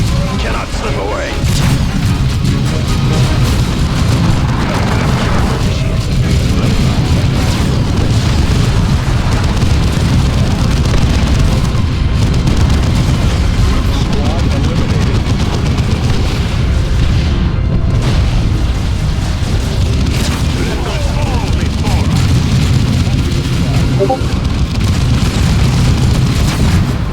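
Heavy, continuous booming blasts and crashing impacts from an artillery strike in the real-time strategy game Dawn of War II, loud and dense throughout with battle noise and clipped unit voices mixed in.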